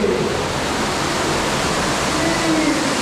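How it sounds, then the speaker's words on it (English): Water pours over rocks inside a cave, a loud, steady broadband rush that fills the space without pause and with no voices. "Wow, water's pouring over that."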